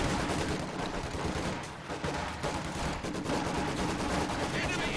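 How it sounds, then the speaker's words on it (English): MG42 machine gun fire in Company of Heroes 2, a WWII strategy game: dense, continuous battle noise with rattling bursts blending into other gunfire and explosions, loud throughout, with a voice talking over it. "Here an MG42 opening up."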